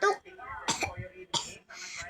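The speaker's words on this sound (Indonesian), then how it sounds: "batuk sih, bukan apa-apa." A child coughs several times in short, sharp bursts, close by, with spoken words around them.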